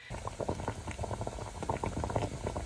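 Water boils vigorously in a pot used to steam a spotted dick pudding, a dense, continuous bubbling and popping that is close and fairly loud, with no voices over it.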